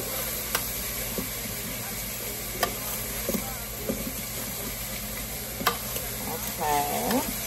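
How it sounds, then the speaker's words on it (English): A pot of creamy curry stirred with a fork as it simmers: a soft, steady sizzle and hiss with occasional light clicks of the fork against the pot, close and fairly quiet. "So I'm gonna stir it around a little bit"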